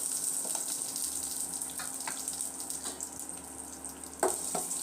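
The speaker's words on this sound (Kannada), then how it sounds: "ಈರುಳ್ಳಿ ಒಂದು ನಿಮಿಷ ಸ್ವಲ್ಪ ಫ್ರೈ ಆಗಲಿ" Sliced onions sizzle steadily in hot oil with popping mustard seeds in a pan while bitter gourd gojju is cooked, giving a continuous close hiss with scattered crackles and a sharper clatter near the end.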